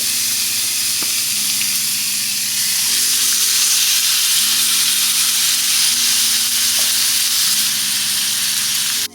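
Adobo-seasoned ribeye steaks sear in a hot skillet with a loud, steady sizzle and hiss, close and continuous throughout, with a low hum underneath and no talking.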